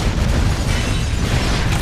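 Explosion in GTA 5, a loud, sustained roaring blast with heavy low rumble that stays at full strength for nearly two seconds, with no voices over it.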